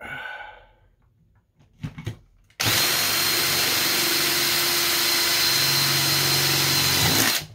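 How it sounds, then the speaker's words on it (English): A few soft bumps and handling noises, then a power drill whirs loudly and steadily for about five seconds before stopping, drilling a hole in a mini keg. "Now let's go ahead and drill that hole and see if we can make this work."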